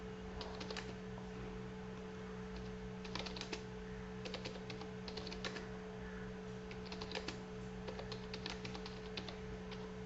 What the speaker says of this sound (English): okay, I'm typing it out